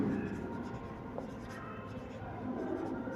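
Chalk or marker writing on a board during a physics class, soft close scratching strokes over a quiet room hum.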